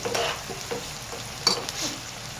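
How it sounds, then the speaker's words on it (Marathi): Tomatoes and masala fry in a pan with a soft, steady sizzle and occasional scraping stirs, close and moderately quiet, with no talking. "टमाटे आपले चांगले भाजून घ्यायचे आणि चांगला व्यवस्थित मसाला बनवून घ्यायचा"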